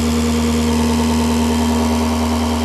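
A motor drone runs steady and loud, a constant humming whine with strong low tones and no change in pitch over a few seconds, nobody speaking.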